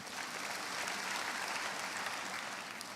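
A church congregation claps in steady, dense applause for about three seconds, fairly quiet and with no talking.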